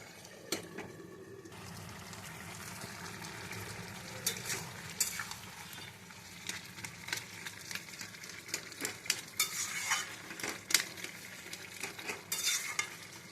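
Raw pumpkin, potato and drumstick curry simmers in a pan, giving a faint steady bubbling and sizzling bed with scattered soft stirring clicks and scrapes, close by with no talk.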